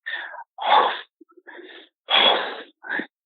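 A voice imitates a creature's breathing, producing several harsh, airy wheezing and sneezing rasps in uneven bursts with short pauses between them, close and fairly loud.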